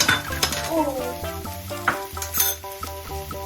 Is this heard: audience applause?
no